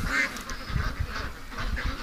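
A flock of pet ducks kept in a yard near a lake quack repeatedly and close by as they wake up for a morning snack, a busy run of overlapping calls with no talking.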